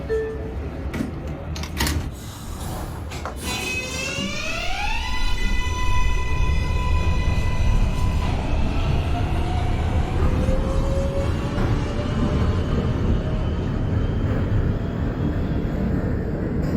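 An NYC Subway R142A train on a Manhattan-bound 4 run in a simulator, with a rising electric motor whine climbing in pitch as it accelerates, then a steady rolling roar, sharp clicks and door thumps early on.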